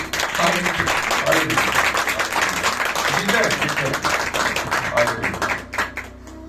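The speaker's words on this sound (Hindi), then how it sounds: "ताली बजा के बताइए।" Steady applause from a crowd of many people clapping together, loud and continuous for several seconds, tapering off slightly at the end.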